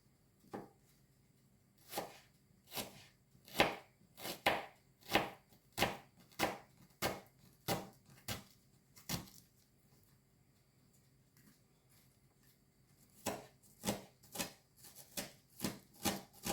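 A knife chops garlic on a board in a run of crisp, evenly spaced thuds, a pause, then another quicker burst of cuts, close and fairly quiet with no one speaking.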